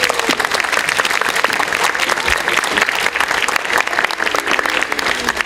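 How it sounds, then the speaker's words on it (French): Loud, dense audience applause for the opening act of a children's circus show put on by childminders, a continuous wash of many hands clapping steadily from start to finish with no talk over it. "Applaudissez bien fort le premier numéro."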